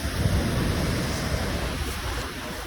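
Sea waves wash onto a coast where hills rise on one side and open sea lies on the other, a continuous rushing surf mixed with wind buffeting the microphone.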